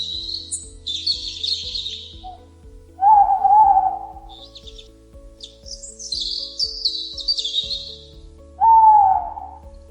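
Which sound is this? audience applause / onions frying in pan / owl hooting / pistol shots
owl hooting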